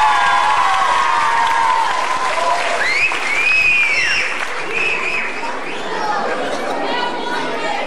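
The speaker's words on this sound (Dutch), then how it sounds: "Een applaus voor Bart!" A crowd at a scouting playback show applauds and cheers loudly, continuous clapping mixed with whoops and chatter, with voices rising over the noise.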